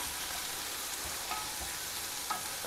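Finely chopped onion fries in a tablespoon of oil with mustard and cumin seeds in a kadai, producing a constant, quiet sizzle with a couple of faint stirring taps.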